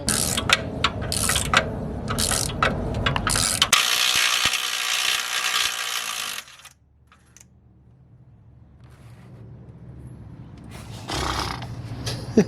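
Socket ratchet wrench clicking in quick bursts during a Rough Country 2.5 inch lift kit install on an S10 Blazer, loud and close for several seconds, then quieter shop noise with a few faint clicks.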